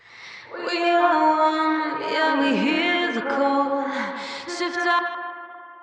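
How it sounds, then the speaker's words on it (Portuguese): UAD Galaxy Tape Echo stereo delay and reverb effect on a sustained tonal sound, with a long reverberant tail and echoing repeats over several seconds, fairly loud and alone. "você pode jogar, por exemplo, o delay para um lado, por exemplo, e o reverb do outro"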